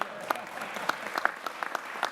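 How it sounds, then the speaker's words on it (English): At a mayoral public hearing on city legislation, the audience gives short, scattered applause for a council member. The claps are distinct and fairly close, with no voices over them. "Let's give him a round of applause as well."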